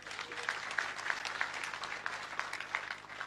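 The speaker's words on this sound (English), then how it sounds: "And I really want to applaud you, Martha." Faint, even applause from a gathering at a funeral service, a soft steady patter of clapping heard from a distance, with no talk over it.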